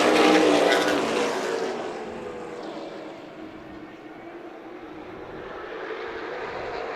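Field of race cars roaring away together at the green flag of the Salted Metals 150 at Colorado National Speedway, a loud broad engine rush that peaks at the start and then settles into a steady, slightly fading drone.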